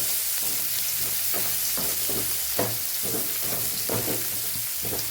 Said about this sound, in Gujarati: એમાં આપણે ડુંગળી સાતડી લેવાની છે